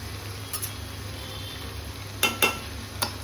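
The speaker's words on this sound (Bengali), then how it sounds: "এখানে চিংড়ি মাছ ভাজা হচ্ছে" Prawns frying in a pan at a Bengali wedding kitchen, a low steady sizzle with a few sharp clinks of a utensil.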